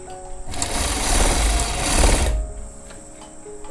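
A sewing machine runs one short, loud burst of stitching along the lower edge of a koti-style jacket, starting and stopping abruptly, close up with quiet before and after.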